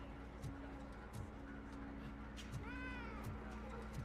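A cat meows inside the Robocop: Rogue City video game, several short repeated mews with one longer wavering call, moderately close over a low steady background hum.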